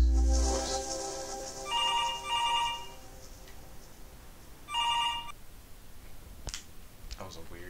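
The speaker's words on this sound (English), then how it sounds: "Answer the phone." Inside the video game Where The Bees Make Honey, a telephone rings in two clear double bursts separated by a pause, with a few clicks afterward, heard over steady game background sound.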